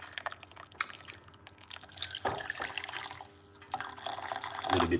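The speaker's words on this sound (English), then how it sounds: "We're gonna pour some hot water." Hot water poured into a cup to make turmeric tea, a faint uneven trickle and splash with small drips, quiet and nearby, growing slightly fuller toward the end.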